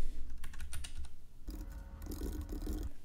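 A password is typed on a computer keyboard, rapid close clicks in two bursts, the second denser and backed by a low rumble, with no talk.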